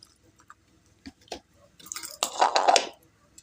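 Water is poured onto washed sesame seeds in a mixer jar, a few faint drips followed by a short, louder splashing pour near the end.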